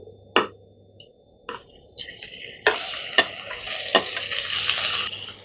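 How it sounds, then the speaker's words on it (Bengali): Prawns hit hot oil after a few sharp clinks of a utensil, then a loud sizzle builds and holds, broken by stirring knocks against the pan. "এই তেলের মধ্যেই এবারে আমি হালকা করে একটু চিংড়ি মাছটা ভেজে নিচ্ছি"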